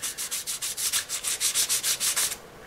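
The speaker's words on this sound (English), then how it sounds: "Now I counted 10 strokes there back and forth." Dry 400-grit sandpaper rubbed back and forth over electric guitar frets, about a dozen even, rhythmic strokes, close and crisp, with no talking.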